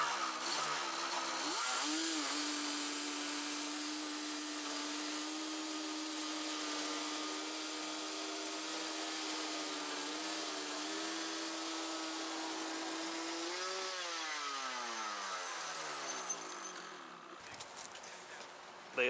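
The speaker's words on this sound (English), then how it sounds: "Burnouts are always fun." A vehicle doing burnouts gives a sustained, high, whining engine drone at moderate distance, its pitch wavering and sliding before it fades out near the end.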